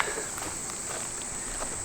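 Cicadas drone in a steady, high-pitched buzz without a break, with faint rustles and scuffs of movement beneath it, outdoors after grass cutting.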